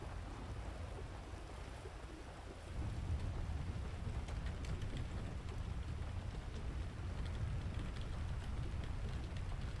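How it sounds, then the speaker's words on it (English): Rain and a thunderstorm in the video game GTA World make a steady wash of rainfall with low rumbling that swells partway through, fairly faint and continuous, with no talking. "Yeah, so basically it's raining out. Well, it's storming."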